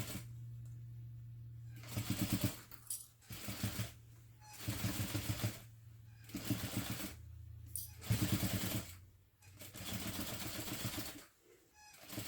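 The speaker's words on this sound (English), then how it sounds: "just stitch along the existing seam" A sewing machine stitches along an existing seam on a Phoebe mini backpack, running in several short, steady bursts with brief pauses between them, close and fairly loud.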